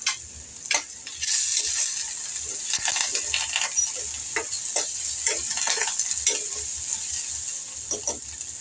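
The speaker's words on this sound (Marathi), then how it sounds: "कांदा कढीपत्ता थोडा झाला लाल की मग आलं लसूण जे ग्रेटरनी किसून घेतले ते टाकून घ्यायचं" Grated ginger and garlic fry in oil with onion and curry leaves for a spicy Dodki bhaji, giving a close, steady sizzle broken by repeated scraping and clinking stir strokes.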